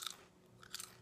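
Crunchy, meaty Brazilian snack being chewed close up: two short crisp crunching bursts a moment apart, faint and isolated with no talk.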